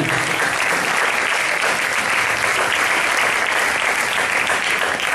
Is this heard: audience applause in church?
yes